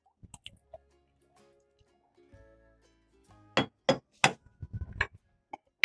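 Peeled potato pieces drop into cold water in a pot, giving a quiet start followed by a cluster of close, sharp splashes and plops near the end.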